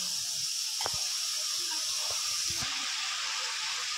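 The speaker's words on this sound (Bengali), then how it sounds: "ঝোল টকবক করে ফুটছে" Bombay duck fish curry gravy boils and bubbles in a pan: a steady hissing simmer with a few soft pops breaking through. No voices.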